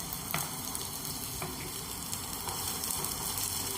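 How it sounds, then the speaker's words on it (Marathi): Onion, ginger and garlic sauté in a pan for dhaba-style dum aloo, making a soft, steady sizzle with faint stirring taps throughout, close by and without any voices. "आता हे आपण थोडासा कलर चेंज होईपर्यंत परतून घेऊया।"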